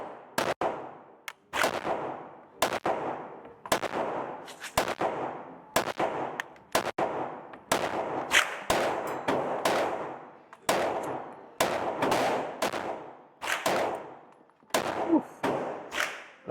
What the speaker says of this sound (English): I got 15 shots at 5 yards, so here we go.